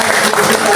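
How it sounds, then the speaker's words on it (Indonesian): Audience applause at a teachers' workshop in Dairi Regency, North Sumatra, a loud, dense burst of many hands clapping together, brief and close, filling the room. "Tepuk tangan kita berikan kita"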